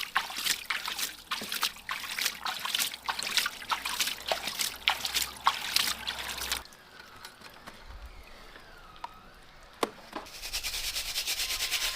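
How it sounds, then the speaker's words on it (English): Water flushing gravel from a homemade centrifuge into a gold pan, loud, close gritty rushing and clattering pebbles that drop to a quieter trickle and then return, with no voices. "I'll flush it into the gold pan"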